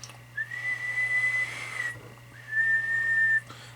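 A person whistles two sustained, steady high tones, the first about a second and a half long and the second about a second, with a short gap between them over a quiet background hum.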